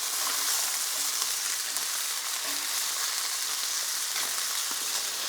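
Hand-packed sirloin burgers fry in a pan with a continuous, bright sizzle and crackle, loud and close, with a few faint soft knocks underneath.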